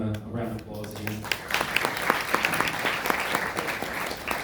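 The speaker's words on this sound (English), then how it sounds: "Can you please give them a round of applause again?" An audience at a conference keynote panel breaks into sustained, dense applause for the panelists, loud and close, with many overlapping claps following a brief stretch of speech at the start.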